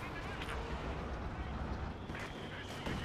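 Gunfire and artillery blasts in a competitive team shooter match, a steady dense rumble of shots and booms running throughout at moderate distance, with voices talking over it.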